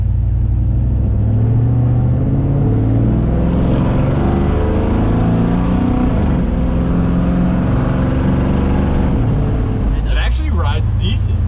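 Car engine running steadily during a test drive of a rebuilt car, a continuous low rumble with road noise throughout, with some brief knocking or handling noises near the end.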